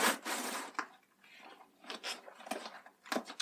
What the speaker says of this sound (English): I feel bad eating Turkish Delight on camera because it feels kind of noisy when you're chewing it